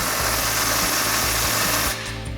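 Impact wrench with a 15mm socket tightening a muffler clamp on a Ford F-150 EcoBoost exhaust, a loud steady mechanical buzz with rhythmic hammering pulses for about two seconds, then stopping abruptly.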